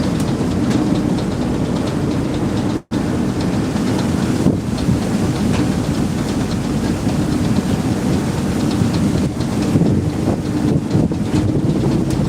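Strong wind buffets the microphone aboard a Thames Clippers river boat on the Thames in London, a loud steady roar with engine and water rumble beneath, continuous throughout apart from one brief dropout.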